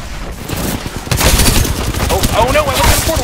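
Heavy gunfire in the battle royale shooter Apex Legends: continuous rapid shots, loud and close, forming a dense barrage that grows stronger midway, with a brief shout over it.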